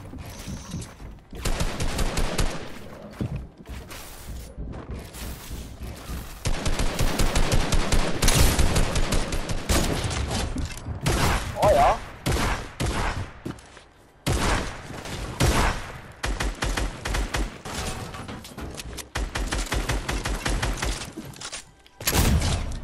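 Shotguns and other weapons fire in a Fortnite match, in dense, rapid bursts of loud gunshots. The shots run almost without pause, with brief gaps between volleys.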